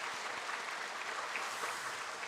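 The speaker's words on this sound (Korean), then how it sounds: "우리 선교사님 네 분 잠시만 자리에 일어나셔서 우리 박수로 함께" A church congregation applauds to welcome four missionaries during a Sunday worship service, a steady, dense clapping from many hands filling the room, with no talk over it.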